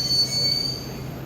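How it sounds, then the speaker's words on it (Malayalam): A Delhi Metro train pulls away, its wheels giving a thin, sustained high squeal over a low rumble, brief and steady, with no talk. "നമ്മുടെ മെട്രോ പോയി"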